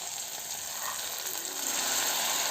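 Fresh black-eyed peas frying in hot oil, producing a dense, continuous close sizzle that grows slightly louder toward the end.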